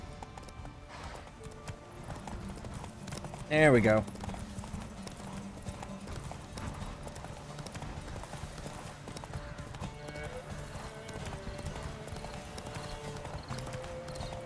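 Horse hooves clip-clop in a steady, even rhythm while riding through the Witcher 3 video game world, running throughout under low ambient music, with a brief spoken remark near the start.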